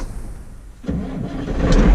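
Fiat 1180DT tractor diesel engine starting: a short quiet lead-in, then the engine catches with a loud, close, rough roar that builds steadily toward a running rumble.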